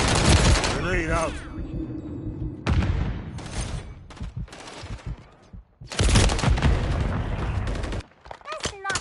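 Rapid gunfire bursts and a heavy grenade blast in a Call of Duty: Modern Warfare III multiplayer match on the Quarry map, loud and close, with automatic fire returning in clustered volleys and brief lulls between them.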